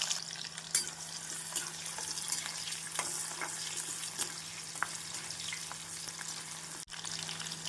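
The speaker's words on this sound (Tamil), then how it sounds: "இந்த அளவு எண்ணெய் ஊற்றி நன்றாக காயவும் வெங்காயத்தை சிறிது சிறிதாக போட்டு வறுத்து எடுத்து விடலாம்" Onions frying in hot oil for Hyderabadi chicken dum biryani, a continuous close sizzle with light crackling and a few scrapes of a stirring spoon, steady and fairly quiet with a faint hum underneath.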